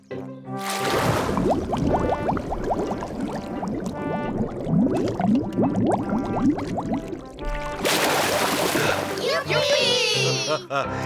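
A cartoon pig dives into a swimming pool, giving a loud, busy burst of splashing and churning water that runs for several seconds, with children's voices and talk over it before a fresh surge of splashing near the end.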